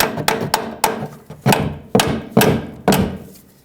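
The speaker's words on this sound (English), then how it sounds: "You should be able to tap the bolt out now." A hammer tapping a bolt out of a GMC Yukon front upper control arm, about a dozen sharp metallic blows, some light and some heavier, in an uneven rhythm, close and loud with no speech.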